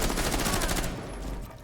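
Rapid gunfire exchange in a competitive Rainbow Six Siege college match, a loud dense burst of automatic shots that cuts off after about a second, leaving a fainter rumble.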